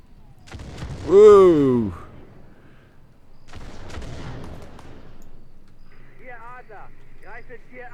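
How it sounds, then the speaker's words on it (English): Mortar fire in the Arma 3 Spearhead 1944 World War II campaign: two heavy booming impacts a few seconds apart, with a man's startled exclamation over the first and quieter in-game sounds afterward. "Here comes the mortars."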